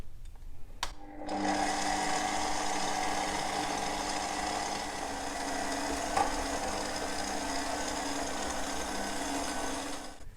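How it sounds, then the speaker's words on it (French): Stand mixer kneading brioche dough with flour, sugar and salt at low speed, a steady motor whir with a rhythmic rattling churn, starting after a brief click and running continuously and evenly, close and moderately loud. "Et directement tout ça dans le bol du robot. Et on commence à pétrir, petite vitesse pendant 1 minute."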